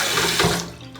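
Water runs from a tap in a steady, close splashing stream that thins out toward the end, with no talking.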